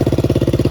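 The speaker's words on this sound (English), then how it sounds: "Bike is idling." A Honda XR200 dirt bike engine idles close by, with an even, rapid single-cylinder thump that repeats steadily and loudly without any talk.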